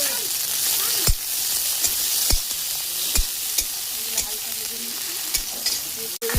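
Chopped onion, green chili and tomato fry in hot oil with a steady broadband sizzle, broken by several sharp stirring clicks and scrapes of a utensil against the pan, close and fairly loud, no talking.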